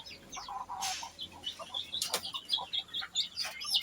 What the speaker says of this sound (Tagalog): May bagong sisiw.